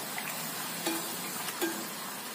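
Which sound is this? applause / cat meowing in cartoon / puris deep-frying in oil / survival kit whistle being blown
puris deep-frying in oil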